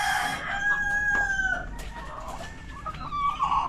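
Egg-laying hens cluck and a rooster crows loudly nearby, with repeated calls rising and falling over a farmyard background.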